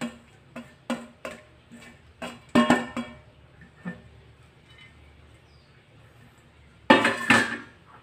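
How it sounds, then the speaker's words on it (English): Torch ginger anchovy salad ingredients tossed together in a bowl, giving a run of sharp clinks and taps in quick bursts, a pause of near quiet, then a final loud cluster of clatter close by. "We put it all in. We mix it all up."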